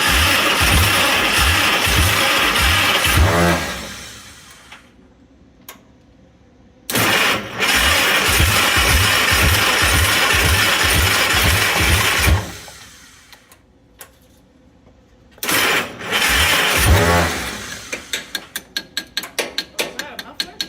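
A Mighty Midget Mobilift forklift engine cranks in rapid, rhythmic bursts separated by quiet pauses, then ends with ragged firing pulses as it tries to catch.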